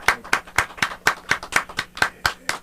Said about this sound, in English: you should at least have some fake applause